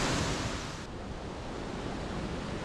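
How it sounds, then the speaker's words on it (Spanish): Steady, loud broadband roar of a waterfall on the River Doe along the Ingleton waterfalls trail in England, continuous rushing water heard close with no voices. "siguiendo el curso del río Dow se llega a esta catarata"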